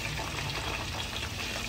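Quail fry in hot oil with garlic, giving a steady dense sizzle and crackle that stays even and close for the whole short stretch.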